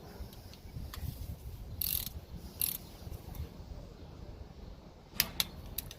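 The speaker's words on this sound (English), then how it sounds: "I'm turning it, and then it clicks just a tiny bit, and then skip." A torque wrench tightening differential cover bolts gives sparse, crisp mechanical clicks, a few isolated snaps spaced out over quiet workshop background with a short double click near the end.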